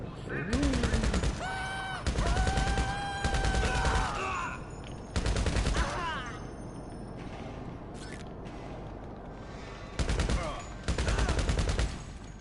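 Video game gunfire erupts in several loud bursts of rapid automatic shots separated by brief lulls, with tonal game sounds and faint voices in between.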